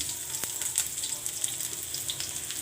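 Onion dropped into hot cooking oil for lechon paksiw, crackling and sizzling close up in bright, spitting bursts with a few sharper pops, alone without talk.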